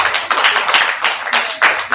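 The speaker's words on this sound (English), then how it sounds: "Give yourself a round of applause coming up." Audience applause at a university sexuality studies event, with bursts of clapping that swell and fade in waves across two seconds, fairly close and loud.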